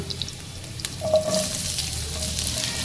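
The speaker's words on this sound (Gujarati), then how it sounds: "એમાં આપણે લસણ અને આદુ એડ કરી દઈશું અને એને બરાબર મિક્સ કરી લસણ ચડવી દેવાનું" Garlic and ginger fry and are mixed in hot oil, giving a steady close sizzle with soft scraping and a few light clinks. No one speaks.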